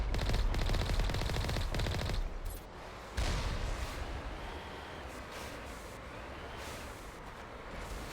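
Alliance heavy turrets fire in Mass Effect Legendary Edition, dense rapid automatic gunfire in a sustained burst, a brief pause, then continued firing with fainter echoing shots, loud and close.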